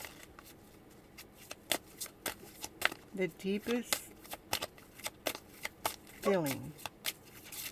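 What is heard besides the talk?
tarot cards being shuffled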